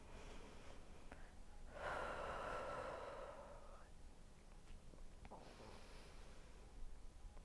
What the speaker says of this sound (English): take a couple deep breaths here